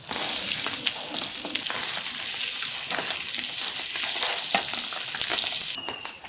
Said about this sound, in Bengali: চিংড়ি মাছ কিন্তু এই প্রায় ভাজা হয়ে যাইছে